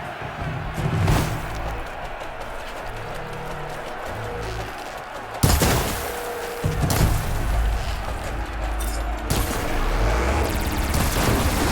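Enemy machines fire at the player in Horizon Forbidden West, with dense, noisy combat and several heavy booming impacts and bursts over a constant layer of game effects and sound.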